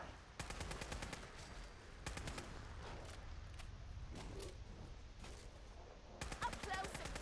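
Rapid automatic gunfire from a newly acquired gun in Fallout 4, loud bursts of sharp shots in several clusters separated by short pauses, with a final burst near the end.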